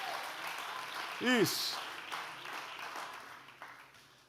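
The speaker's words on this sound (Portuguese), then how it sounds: "faz barulho de aplauso ao Senhor" A church congregation applauds the Lord during a New Year's Eve service, with steady moderate clapping and crowd noise mixed with a brief cheer, a voice speaking a single word over it.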